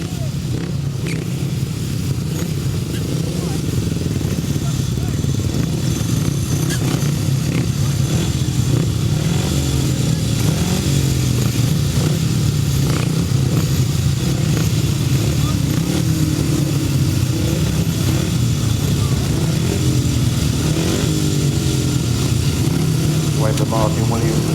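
Grasstrack racing motorcycles idle and rev on the start line at a British best-pairs meeting, a steady loud engine drone throughout with a commentator talking over it.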